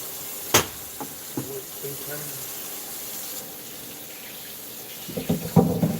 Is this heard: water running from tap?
yes